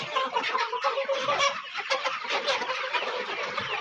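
Chickens of a meat-bird lot of about 3,500 cluck and chatter continuously inside a poultry shed, a dense overlapping chorus of many birds close by.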